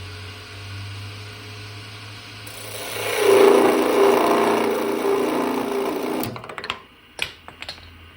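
A wood turning spins on a lathe while sandpaper is pressed against it, building into a steady loud rasping hiss over a low motor hum, then cutting off into a few short scuffs and knocks.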